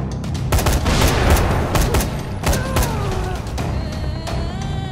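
Gunfire in the zombie video game Dying Light, rapid bursts of loud shots with booming impacts and ringing tails, dense and close, no talking.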